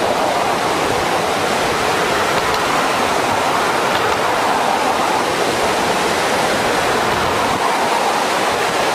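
Rushing floodwater surges through a channel during a 2006 flood in Tucson, Arizona, a loud, steady broadband roar like a waterfall that stays constant and close throughout, with no voices.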